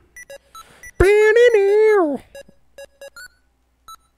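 A Legend of Zelda LCD handheld video game gives short, sharp electronic beeps in quick irregular clusters, interrupted by a longer sustained tonal sound, with the beeps resuming afterward.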